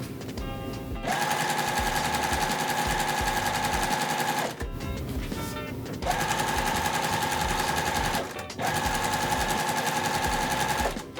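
A sewing machine stitches quilt pieces down a center line in three long, loud bursts of fast mechanical whirring, separated by short pauses where the motor stops.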